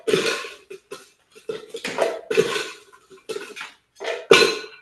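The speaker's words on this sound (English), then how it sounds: "We'll add our ice to our blender cup." Ice cubes are dropped into a Vitamix blender cup while drinks are made. Several short, sharp clattering bursts come in quick clusters, close up, with brief quiet gaps between them.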